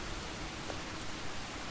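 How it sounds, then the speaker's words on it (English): Steady rain falls in the survival building game Enshrouded, a soft, even wash of static-like patter that holds constant throughout with no other sounds. "Oh, it's raining us out while we build today."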